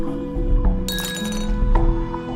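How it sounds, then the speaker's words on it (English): A glass strikes something hard with a bright ringing clink near the middle, then a second sharper knock follows, all over a steady low hum; nothing shatters. "How did the glass not shatter?"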